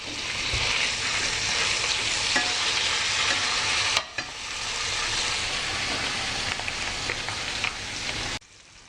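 Filet mignon steaks sizzling in a frying pan, a steady dense crackling hiss with small pops that continues evenly, briefly dips once, then cuts off near the end.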